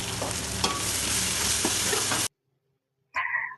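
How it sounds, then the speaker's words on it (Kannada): Coriander and mint fry with tomato and ginger garlic paste for egg biryani, a loud close sizzle with stirring clinks that cuts off into silence, followed by a brief sharp sound at the end. "ಒಂದು ಸ್ವಲ್ಪ ಕೊತ್ತಂಬರಿ ಮತ್ತು ಒಂದು ಸ್ವಲ್ಪ ಪುದೀನ ಇದನ್ನು ಹಾಕಿ ನೀಟಾಗಿ ಫ್ರೈ ಮಾಡ್ಕೊಳ್ಳೋಣ"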